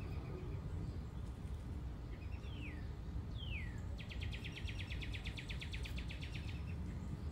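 Wild birds calling outdoors, a couple of quick descending chirps followed by a fast, rapid trill of repeated notes, moderately close over steady low background noise.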